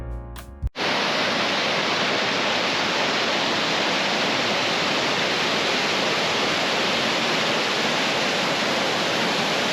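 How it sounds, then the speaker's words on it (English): Waterfall whose flow splits into three or four separate rushing chutes: a loud, dense, unbroken roar of falling water that sets in after a brief opening noise and holds steady throughout, with no voices. "the falls split dramatically into 3 or 4 separate rushing chutes"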